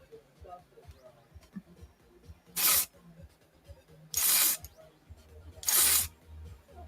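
Dry shampoo sprays onto hair in three short, sharp aerosol bursts about a second and a half apart, close and loud, with quiet rustling and faint talking in between.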